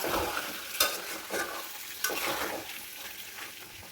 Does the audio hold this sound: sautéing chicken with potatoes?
yes